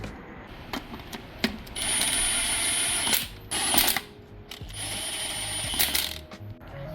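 A ratchet with a chrome socket tightening a nut on aftermarket drop knuckles: bursts of close, dense clicking that run for about a second at a time, separated by sharp metallic taps and brief pauses.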